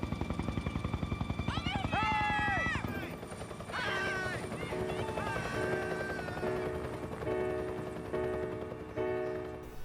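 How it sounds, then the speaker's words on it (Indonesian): Rhythmic thudding of helicopter rotors at first, then the chopping gives way to a busy mix with voices and music over a steady engine drone. "tiba-tiba sebuah helikopter kembali melintas di atas mereka"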